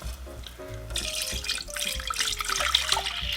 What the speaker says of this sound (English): Now I'm going to add the milk to it.